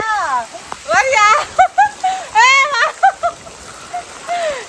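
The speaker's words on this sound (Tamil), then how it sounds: "இப்ப மழையில வந்து கல் அதுவே நனையுது ஃபுல்லாகவே மழை" Heavy rain falls as a steady broadband hiss, mostly masked by a voice talking loudly and almost continuously over it.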